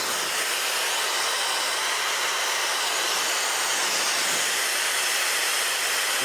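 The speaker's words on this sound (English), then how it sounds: "amazing blow dryer." A $100 blow dryer runs steadily at close range, giving a smooth, powerful airy hiss with an even, unchanging tone throughout and no voices.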